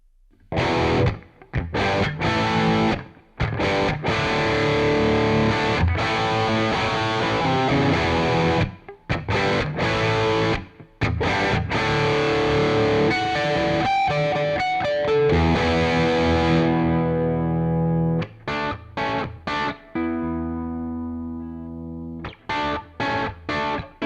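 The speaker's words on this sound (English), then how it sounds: "we're going to dial the gain up and use this guitar as a classic rock riffing machine" Ciari electric guitar played through a British amp with the gain turned up, chugging classic rock riffs: loud, crunchy distorted chords in bursts with short clean stops, ending in ringing sustained notes, no talking.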